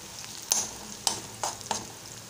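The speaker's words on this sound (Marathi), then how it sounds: "आता व्यवस्थित परतून घेणार आहे मी" Onion, chilli, turmeric, salt and spices being stirred and sautéed in a pan for a Marathi boiled potato vegetable dish, a soft low sizzle punctuated by four sharp scraping clicks of the spoon against the pan.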